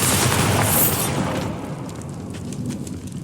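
A Bombarda spell explosion from the Hogwarts Legacy video game: a loud, dense blast that rumbles for about a second and a half, then fades into a lower, rougher tail of crackling debris.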